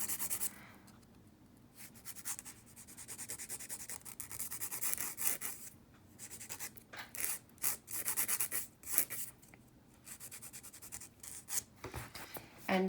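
A file rasps back and forth over a gel nail, shaping it square in steady rough strokes, close up and continuous with brief pauses between passes, no voices.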